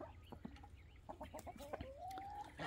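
Chickens and a rooster in an outdoor enclosure give a run of short, close clucks, then a longer drawn-out rising call, fairly soft and with no talking.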